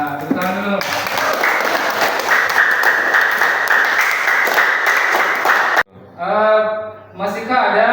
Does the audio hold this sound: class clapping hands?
yes